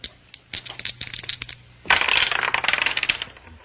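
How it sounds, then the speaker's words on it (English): Dice rolled in an old radio drama scene: a run of light rattling clicks tumbling across a hard surface, followed by a louder, denser clatter as they spin and settle, close and without speech. "One of the dice turns up a 6 while the other still spins."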